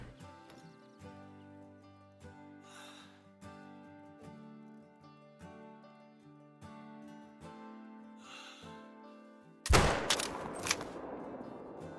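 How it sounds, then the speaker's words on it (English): A single loud rifle shot from a 22-250 loaded with saw point bullets in the hunting game Call of the Wild cracks out near the end, following a long stretch of quiet background music. "So I do believe that's going to be our first shot we've taken with the saw points and the 22-250."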